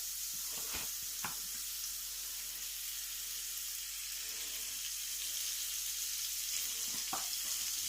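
Butter melting with a splash of oil in a hot frying pan that was used earlier for bacon, giving a steady close sizzle with a few brief crackles and pops.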